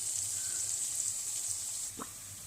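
Potatoes frying in a pan with salt produce a gentle, steady hiss of oil, close and even, with a brief clink or drip near the end and no speech.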